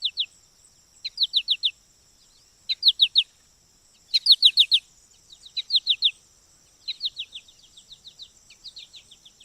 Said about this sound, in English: Contact calls, this is an American goldfinch, um, maintaining contact with a mate.